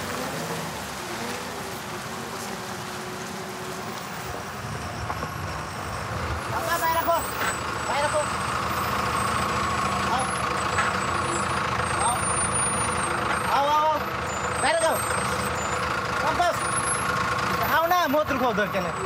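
A heavily loaded truck labours along a risky broken mountain road, its diesel engine droning steadily and close, with hiss-like bursts and clanks while people talk and shout over it.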